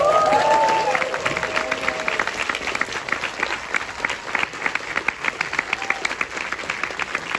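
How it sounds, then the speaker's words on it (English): A screening audience of a Friday the 13th Part 3 in 3-D event gives a big round of applause, opening with a brief voice and cheer, then sustained rhythmic clapping from a packed room that gradually thins out. "Big round of applause."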